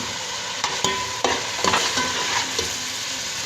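Peas tip into hot oil with softened tomatoes and are stirred, giving a steady loud sizzle broken by several sharp spoon scrapes against the pan, with no talking.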